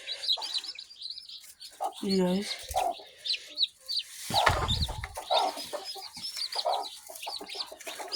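Newborn chicks chirp in high, rapid peeps, and a hen clucks in low bursts among them. A person speaks briefly over the birds, and there is a louder rustle near the middle.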